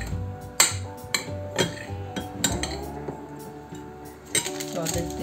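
Walnuts, sugar and semolina stirred in a bowl for baklava, a spoon scraping and clinking against the bowl in uneven strokes, close and moderately loud, with a voice speaking over it.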